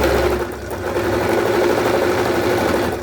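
Loud and close, a sewing machine runs a continuous steady stitch along a petticoat seam, its motor hum and rapid needle rhythm holding even for a few seconds.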